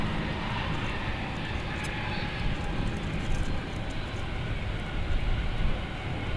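A Frontier airliner arriving at DFW Airport from Cancun produces a steady, fairly faint rumbling engine roar that swells slightly toward the end, with occasional faint talk.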